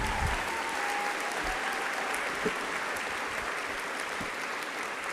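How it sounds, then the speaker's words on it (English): Audience of several hundred applauding at a school district State of the District event, a steady continuous wash of clapping heard from within the hall, moderately loud and without speech. "Please give Vivian another round of applause"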